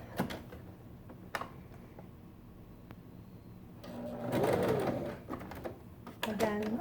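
A sewing machine stitches fabric for a cup-shaped face mask, running in a couple of short close bursts with a steady whirring rhythm between quieter handling clicks and pauses.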